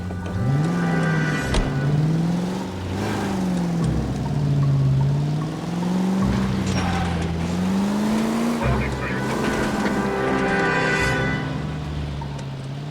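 A car engine driving in L.A. Noire, a steady loud motor drone whose pitch rises and falls with gear changes and speed, with brief thumps throughout.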